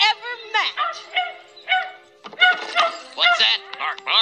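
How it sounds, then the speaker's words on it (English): A toy dog from Toy Story 2 gives a series of short yapping barks and whimpers at close range, mixed with an animated voice speaking between them. "What's that, bark, bark?"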